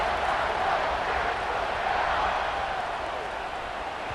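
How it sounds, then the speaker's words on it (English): Steady stadium crowd buzz in EA Sports College Football 26, Classic Alabama at Ohio State, a dense continuous roar of many voices after a touchdown, even and loud throughout with no clear single voice standing out. "this crowd is buzzing after that last score"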